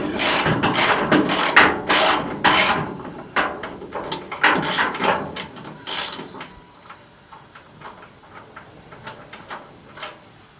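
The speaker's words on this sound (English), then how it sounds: "Tighten everything up completely." A ratchet tightens bolts while door gaps are adjusted on a car, with rapid bursts of loud, close pawl clicking in quick strokes, then fainter, sparser clicks as the bolts snug down.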